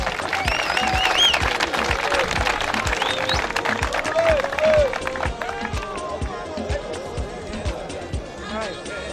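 An audience of prison inmates at an event in Ikoyi prison claps in sharp, uneven bursts with shouts and cheering, while voices talk over the crowd noise.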